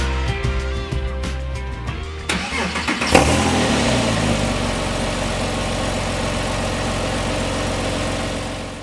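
The 3.8-liter flat-six in a 2006 Porsche 911 Carrera S (997) cranks briefly, catches with a loud bark, then settles into a steady, even idle.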